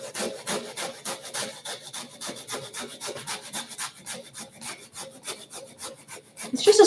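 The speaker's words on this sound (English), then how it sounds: "I'm just going to grab my microplane as well, and grate some ginger." Fresh ginger scraped against a microplane grater in a home kitchen makes a quick run of rhythmic rasping strokes, close and fairly loud, with a louder clatter at the very end.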